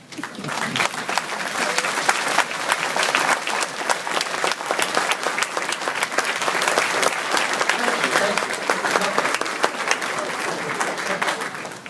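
A graduation audience at East Union in 2013 breaks into thunderous, sustained applause after a speech, a dense wash of many hands clapping loudly and steadily for the full stretch with no pause.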